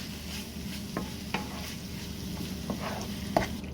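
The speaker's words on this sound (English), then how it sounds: "Stir that through and mix everything well." Soft stirring in a pan of chicken, seasonings and enchilada sauce, a low sizzle underneath with a few light scrapes and taps of the utensil against the pan, fairly quiet.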